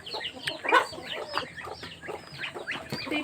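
Chickens cluck busily at feeding time on a hillside farm, a dense cluster of overlapping clucks and short squawks, close and fairly loud, with one burst standing out near the start.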